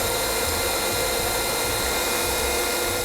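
Electric hand mixer whirring steadily as an egg is beaten into margarine and sugar for a cinnamon-crusted coffee cake batter, a continuous loud motor drone with no pauses.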